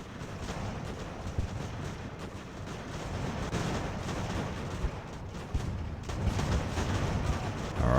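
Cannons booming in the sailing-era battle game Ultimate Admiral: Age of Sail at Bunker Hill, a continuous rumbling barrage of heavy artillery fire with repeated dull thuds and sharper blasts, dense and steady throughout with no speech.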